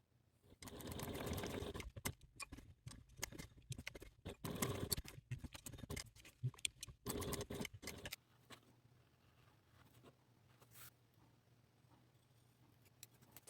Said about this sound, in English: take this to the machine and tap stitch all along our snap closure at a 1/8 seam allowance